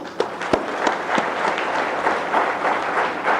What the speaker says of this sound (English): Let's applaud her for it.